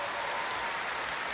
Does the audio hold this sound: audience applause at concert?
yes